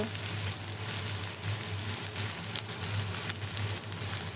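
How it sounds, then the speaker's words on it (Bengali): Masala spice paste frying in a pan, a steady close sizzle with faint scraping or stirring bursts, no voices. "এখন মশলাটা ভালো করে কষিয়ে আমি মাংসটা এখন দিয়ে দেব"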